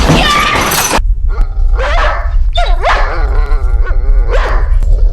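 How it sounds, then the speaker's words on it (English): A dog barks repeatedly in a scene from the horror film Paranormal Activity, loud and close, with several sharp barks and yelps spaced irregularly after a brief crash-like burst at the start. "This dog is barking a lot"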